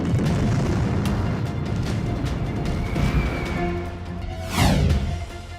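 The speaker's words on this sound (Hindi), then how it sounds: "ईरान पर अमेरिकी बमबारी।" Loud, continuous rumbling blasts from US bombing in Iran, with a dense low roar throughout and a sharper swelling burst near the end, no voices.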